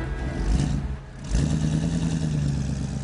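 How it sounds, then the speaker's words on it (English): A Chevy 350 V8 fitted in a Toyota 40 Series four-wheel drive rumbles nearby, dipping briefly before rising again into a steady, deep idle-to-rev drone. "the noise of that 350 Chevy"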